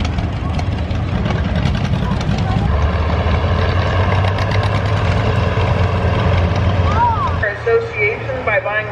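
Antique tractor engines idling at a tractor pull, with one machine hooked to the sled, give a steady low rumble that holds loud throughout amid crowd noise, with some higher mechanical whines near the end.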